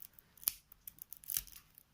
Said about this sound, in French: on va tout de suite ouvrir les paquets de cartes